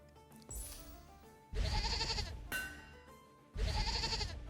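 Goat bleating in the video game Union of Gnomes: two loud, drawn-out bleats about a second apart, each lasting roughly a second, over a quieter game background.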